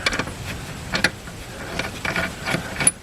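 An air impact gun works on a lawn mower blade bolt on a zero turn mower, giving several short rattling, ratcheting bursts separated by brief pauses, close and fairly loud.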